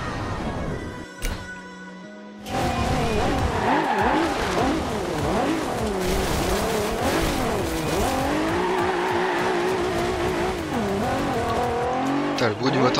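A car engine in the Forza Horizon 2 racing game revs hard and continuously, its pitch rising and falling in repeated sweeps, loud and close after a brief quieter start.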